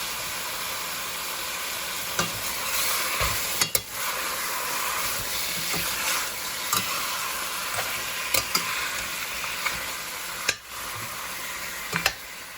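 Oxtail browns in a pot with a constant hiss of sizzling fat and occasional sharp pops and crackles, fairly close and alone with no talking.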